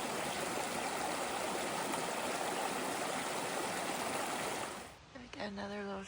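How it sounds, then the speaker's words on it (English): A mountain river on the Appalachian Trail in the Presidential Range rushes steadily at a trail crossing, a loud, continuous broadband flow that drops away near the end as a voice begins speaking. "And that looks like another river crossing."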